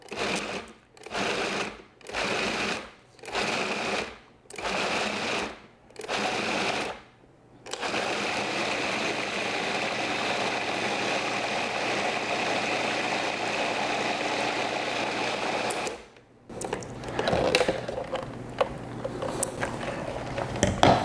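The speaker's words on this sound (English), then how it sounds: "we're just going to pulse this to begin with to get everything chopped up. And then I will turn it on" A food processor chops a peppery feta dip, first in about six short, even pulses separated by brief silences, then running continuously in a steady whirring roar for several seconds before switching off, with faint rattling afterward.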